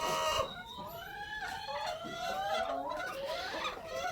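Spent laying hens cluck and squawk steadily in a busy farm flock, several birds overlapping with a continuous chatter of calls, fairly close and moderately loud.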